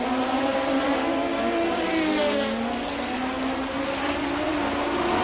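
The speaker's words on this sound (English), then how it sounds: "Cars are passing on the long back straight." Race cars at the 1982 Grand Prix de Trois-Rivières, a Can-Am, Trans-Am and Formula Atlantic event, roar steadily down the long back straight, a continuous loud engine drone with pitch slowly sliding as they pass, with no commentary over it.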